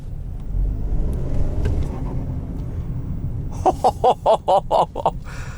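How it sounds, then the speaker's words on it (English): A steady engine rumble from a stock 2021 Ford Bronco Sport Big Bend, then a quick series of sharp fluttering turbo chirps, about eight rapid bursts in a row, close and loud. "that was probably the most insane turbo flutter I have ever heard in a stock car"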